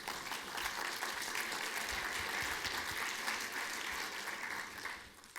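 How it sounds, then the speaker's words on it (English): An audience at a business event for advice firms gives a round of applause, a dense and continuous clapping that holds at a steady level for several seconds before easing slightly at the close. "I think a round of applause."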